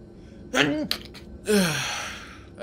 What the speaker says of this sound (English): I had to sneeze though.